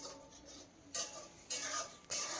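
A spoon stirs spinach and potato curry with turmeric and salt in a pan, three distinct scraping strokes against the metal, close and fairly quiet with no talk.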